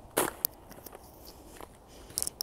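Thin ice being broken and crunched outdoors on a cold day, giving a few sharp, close crackling snaps with quieter scattered crunches between them and no talking.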